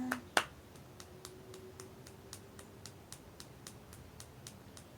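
One finger tapping a palm in a children's storytime rain game, imitating little raindrops: soft, evenly spaced ticks about two per second, faint and close, with a brief voice at the start.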